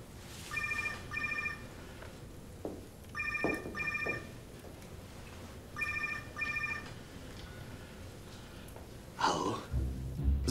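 Telephone ringing in a detective TV drama, three double bursts of an electronic trilling ring spaced evenly, moderately loud over a quiet room with a faint breath or sigh and some rustling near the end.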